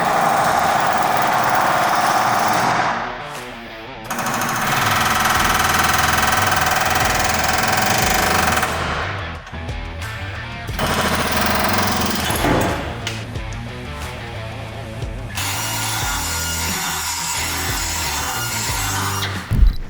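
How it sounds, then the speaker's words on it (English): An air hammer chisels out an old leaf spring bushing from a truck frame, a loud continuous rattling hammer with brief pauses and bursts of renewed pounding throughout. "So we got the old bushing chiseled out with the air hammer"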